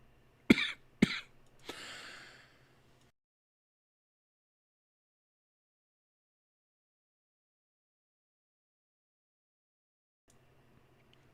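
A person coughing up close, two sharp bursts then a longer raspy one, followed by near silence and a faint hum returning at the end.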